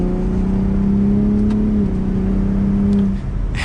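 Engine of a 2021-2023 Ford F-150 Raptor with the twin-turbo EcoBoost V6, pulling hard in sport mode through its sport exhaust, a loud, steady drone that climbs and then drops as it shifts near the end.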